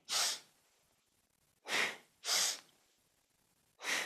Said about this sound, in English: Inhaling out and up, exhaling back in.